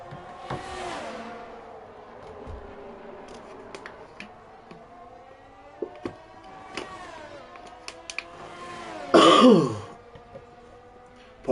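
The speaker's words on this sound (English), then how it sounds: "Apologies, the cough hasn't left yet." A sim-racing commentator coughs and clears his throat during a DRS Championship round at Hungary, several short harsh bursts close to the mic, with a louder rasping cough near the end.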